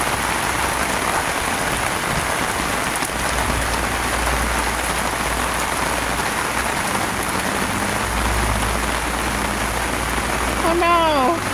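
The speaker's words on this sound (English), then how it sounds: "It's been a heat wave summer, so this rain is so welcome." Summer rain pours steadily onto surfaces outdoors, a dense, even hiss throughout with a low rumble underneath, and a brief voice near the end.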